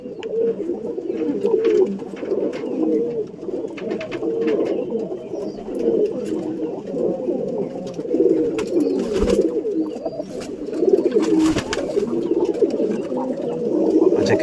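Home-bred young pigeons coo steadily and close by, a continuous layered murmur of several birds with soft overlapping calls and no talking.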